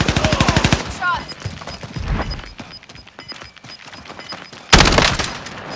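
Rapid bursts of video game gunfire during a heist mission, a fast volley at the start and another loud burst near the end, with quieter scattered shots and game sounds in between.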